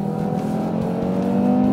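Audi TT RS engine revving on a test drive, a loud, steady, gritty drone with strong harmonics that climbs slightly in pitch near the end, close and continuous for under two seconds.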